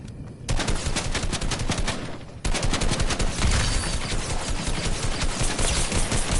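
Sustained rapid gunfire in Fortnite on PS5, dense and loud, with a short lull before the shooting resumes in steady continuous bursts.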